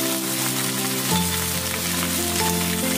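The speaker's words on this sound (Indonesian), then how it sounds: "Kita masukkan sayur pak choy-nya, lalu kita tumis-tumis sampai layu." Pak choy sizzles and crackles loudly in a hot pan as it is stir-fried until wilted, a steady close frying hiss that swells when the greens are tossed.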